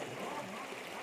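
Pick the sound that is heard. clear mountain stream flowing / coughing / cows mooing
clear mountain stream flowing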